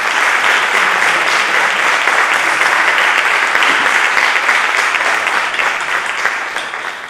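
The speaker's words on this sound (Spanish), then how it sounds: "Un aplauso, ¿no?, a Juan Manuel Vicente" Audience applause for Juan Manuel Vicente at a magazine presentation held by a cultural association, a strong, even wash of many hands clapping that stays loud and fades slightly at the very end.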